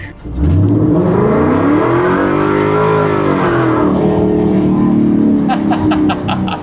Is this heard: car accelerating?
yes